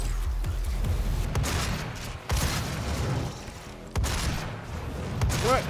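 Rapid bursts of gunfire and booms from the video game DOOM fill the scene continuously, loud and dense, with sharp blasts cutting in around the two- and four-second marks and game effects layered beneath.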